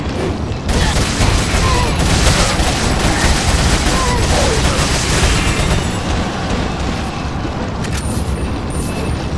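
Heavy, sustained gunfire and explosive booms in Resident Evil 4, dense and loud throughout with a light voice now and then beneath the shooting.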